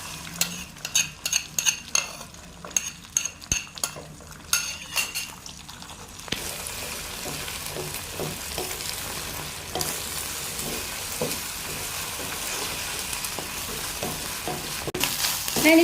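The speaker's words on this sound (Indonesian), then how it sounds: "Ini akan saya urak-arik dulu ya." Two eggs being scrambled and fried in a wok for a cheap street-breakfast rice dish; a spatula clinks and scrapes against the metal in quick bursts at first, then a steady hiss of frying with occasional stirring taps.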